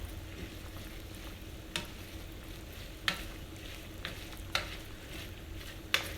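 Tomato sauce being stirred into meat in a hot pan, a steady sizzle with the spoon scraping and clacking against the pan at regular intervals, close and clear.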